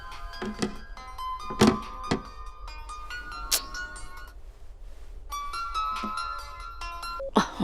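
A phone ringing: a repeated electronic ringtone melody in bursts, with a pause midway, mixed with a few thumps and knocks nearby.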